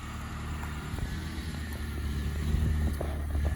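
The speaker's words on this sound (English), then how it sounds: "moving the cars around." Cars, including stretch limousines at a paint correction detailing shop, are moved around with a close, low engine rumble that grows slightly louder as a vehicle pulls along.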